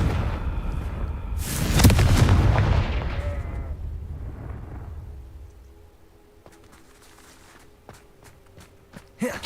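A Confringo spell fires in Hogwarts Legacy, bursting into a loud, close blast with a rumbling low boom that swells and fades over a couple of seconds, followed by quieter scattered clicks and thuds.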